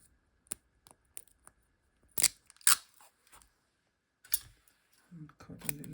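Scissors snipping tape at close range, with a few sharp cuts and clicks spaced apart over quiet pauses, and a voice talking briefly near the end.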